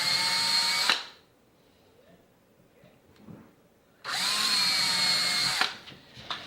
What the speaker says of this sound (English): Just down a 1/4 inch or so to drill the pilot hole.